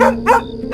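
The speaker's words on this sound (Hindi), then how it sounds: "दूर कुत्ते भौंक रहे हैं" A dog barks twice in a short cartoon sound effect at night in a village, the barks clear and fairly close rather than distant.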